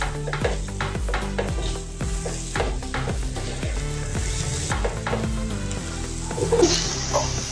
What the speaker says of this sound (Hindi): अच्छे से इसको भुनना है इसलिए